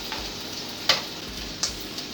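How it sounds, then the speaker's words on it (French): Carrots caramelising in yakitori sauce in a pan give a low, soft simmering crackle, broken by a couple of faint clinks of a utensil, with no one talking. "nos carottes sont en train de caraméliser dans la sauce yakitori"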